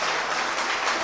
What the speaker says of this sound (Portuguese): e aplauda Ele em nome de Jesus